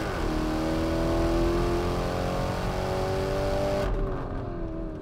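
A Lamborghini Urus SUV fitted with a Mansory kit, rated 650 hp, accelerates hard on a track, its engine note rising steadily in a loud, close roar before easing off near the end.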